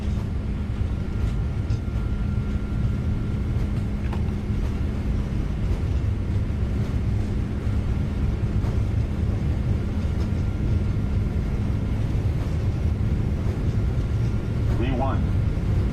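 An airliner's engines at takeoff thrust during the takeoff roll: a steady, loud, broadband roar with a low hum that stays constant throughout, while crew voices call out over it.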